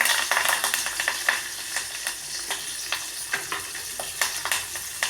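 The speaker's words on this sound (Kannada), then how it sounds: "ಹಾಕಿಬಿಟ್ಟು ಸ್ವಲ್ಪ ಫ್ರೈ ಮಾಡೋಣ" Mustard seeds, cumin, curry leaves and onion frying in a pan, a steady close sizzle with frequent small pops and crackles and no voices.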